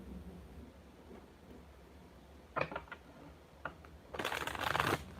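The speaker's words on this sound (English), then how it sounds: "as I shuffle, things just coming to me" Tarot cards are shuffled close up in a quiet room: a few soft riffling bursts, then a longer, louder run of papery shuffling near the end, with no speech.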